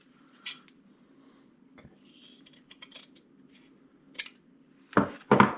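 Scissors snipping through cotton duck fabric after sharpening, a few crisp close cuts spaced apart, with a quick double snip near the end over a low steady hum.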